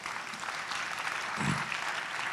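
An audience at the 2016 Fairness Award Ceremony applauds steadily, with dense, continuous clapping filling the whole stretch at an even, moderately loud level.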